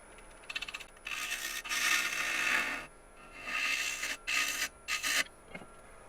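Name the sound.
half-inch bowl gouge skimming a cored bowl blank on a wood lathe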